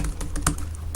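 Quick, crisp keystrokes come in an uneven burst on a Lenovo MIIX tablet keyboard. The clicks are close and fairly loud, with no voices.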